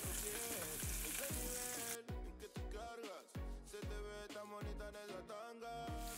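A snakehead fish fillet, spice side down, frying in oil in a hot pan, a loud sizzle over background music with rhythmic thumping beats.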